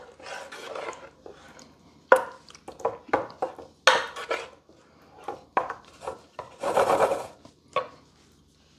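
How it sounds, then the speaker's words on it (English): A spoon scraping and stirring hot lasagna filling in a pan, a series of close, uneven rasping strokes with short pauses between them and one longer scrape near the end. "Go ahead and give that a good stir."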